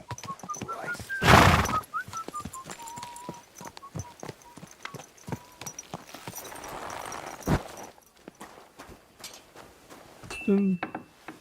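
A horse whinnies loudly and nearby in the medieval game Kingdom Come: Deliverance II, followed by clip-clopping hooves, faint clinking gear and footsteps, with a person speaking over parts of it.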